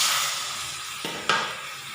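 Minced pork with lemongrass and kaffir lime leaves frying in a pan with a splash of water, giving a steady close sizzle with a couple of brief stirring knocks.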